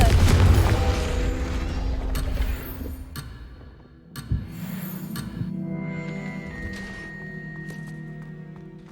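A Confringo explosion spell in Hogwarts Legacy: a heavy booming blast opens with a long rumbling decay, then a sharp thud near the middle and fainter magical rings and clicks trail off.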